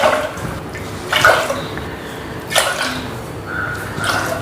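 Water is poured into a measuring cup for foxtail millet pongal, a close splashing trickle with a few louder gushes and drips, with no talking.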